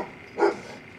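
A single short dog bark, moderately loud, stands out briefly against quiet background near a MacGregor 26X sailboat.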